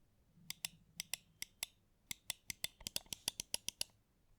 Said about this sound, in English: I'm just going to take this mouse right in front of the microphone so that you can hear how the click sounds